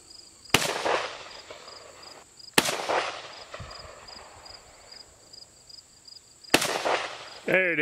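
Three loud, sharp SKS rifle shots outdoors, spaced several seconds apart, each with a crack and echoing tail, over faint background hum and a brief rising tone at the end.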